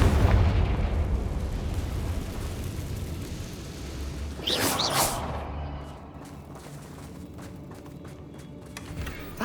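Confringo fire spell explosion in the Hogwarts Legacy video game, heard as a rumbling, fiery blast with crackling debris that fades into a lower rumble, with one brief sharp burst partway through and no talking.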